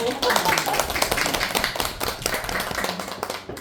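Clapping for the president of a spring literary society at a poetry lecture, a dense burst of hands from a small audience, close and fairly loud, with voices mixed in.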